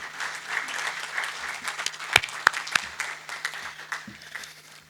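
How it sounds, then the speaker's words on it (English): Audience applause at a power sector regulation course in Africa, steady moderate clapping from a room of attendees lasting throughout, with a few sharper individual claps standing out near the middle. "So please, again, a round of applause."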